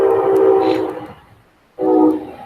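A Brightline train passes by in Miami, a loud, steady rumble with a high tonal whistle-like line. It drops away into near silence and then surges back in close and full.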